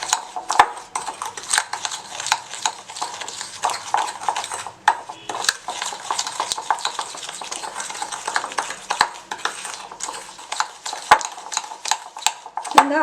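A spoon whisking cocoa powder into chocolate glaze for donuts, giving fast continuous clinking and scraping against a bowl, close and lively with irregular rhythm, no talk.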